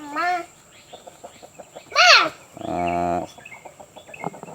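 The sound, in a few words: Burmese chickens clucking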